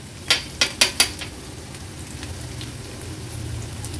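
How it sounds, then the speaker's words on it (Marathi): Chopped spring onion sautés in hot oil with a soft, even sizzle, opened by four quick metallic taps of a spoon against the pan. "कांदा थोडासा तेलावर परतून घ्यायचा आहे"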